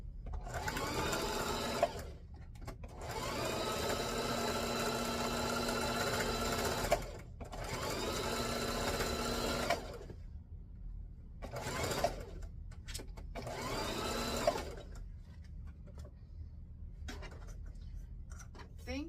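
A sewing machine stitching a jumbo pillowcase runs in several loud bursts of steady whirring, separated by short pauses, with no talk over it.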